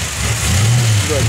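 A 1963 Plymouth Valiant engine revs briefly, a loud close rise in pitch from idle and back, with a voice talking over it.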